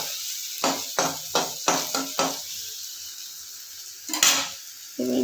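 Onion fries lightly in a pan as it is stirred, with a run of rhythmic scraping strokes over a faint sizzle, then a pause and a few more utensil knocks.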